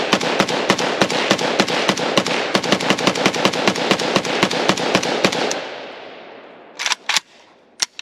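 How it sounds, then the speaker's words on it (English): Arsenal SAM5 AK rifle firing a full 30-round magazine outdoors, a rapid string of loud close shots for about five seconds, then an echoing tail and a few scattered shots. "we both are going to shoot a fully loaded 30 round mag and see if we can make it fail"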